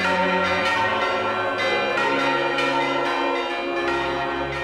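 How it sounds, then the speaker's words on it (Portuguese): Cathedral church bells ring out in São João del-Rei during Holy Week, a dense wash of overlapping tones with repeated strikes, loud and steady throughout. "os sinos da catedral ressoam anunciando que os principais ritos do ano"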